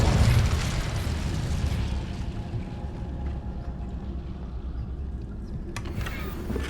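An Incendio fire spell cast in Hogwarts Legacy, a loud fiery whoosh-burst at the start that rolls into a rumbling, crackling roar and slowly fades, with a brief sharper burst near the end.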